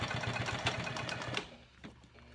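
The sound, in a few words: sewing machine stitching a seam on a tote bag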